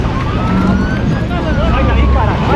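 Police car siren wailing loudly and continuously during a chase after a motorcyclist in São Paulo, Brazil, with rising and falling tones over heavy road and engine noise.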